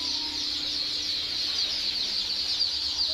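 Chicks in a poultry hatchery stock room, a dense chorus of high, thin peeping and cheeping from many young birds at once, steady and close, with no talk.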